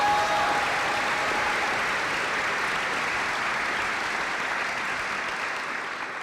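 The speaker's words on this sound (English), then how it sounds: "That deserves a round of applause." A large convocation crowd at Trinity College gives a full, dense round of applause that holds steady, then begins to thin and fade slightly near the end.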